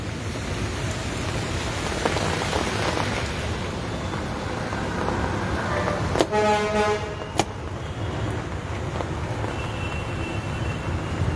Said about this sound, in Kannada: ಮಳೆ ಬರ್ತಿರೋವಂಥ ಕಾರಣಕ್ಕೆ